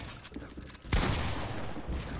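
Video game gunfire rings out as a burst of shots, with faint rapid pops at first and then a sudden loud crack followed by a sustained rumbling echo.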